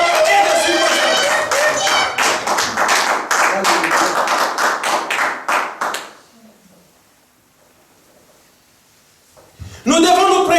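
Church congregation clapping to acclaim God during a sermon, a burst of dense rhythmic hand claps with some shouting voices for about six seconds, then near silence before a voice returns.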